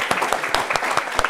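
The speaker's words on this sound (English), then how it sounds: "a round of applause, please, once again, for Traci Melchor." An audience applauds at a wellness webinar event, a brief burst of brisk, close clapping.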